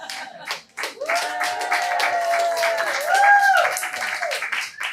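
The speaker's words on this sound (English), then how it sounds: "But that was a good applause." Audience at a storytelling show bursting into clapping, with cheers and whoops mixed into the applause, rising and holding at a lively level.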